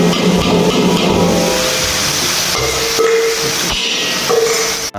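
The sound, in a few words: ground spice paste sizzling in hot oil for chole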